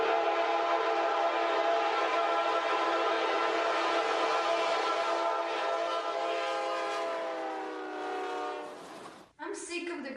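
Train sound effect dominated by a long, loud, sustained steam-style whistle blast lasting most of the clip, then cutting off abruptly into brief rail noise.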